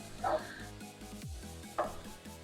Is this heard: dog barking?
yes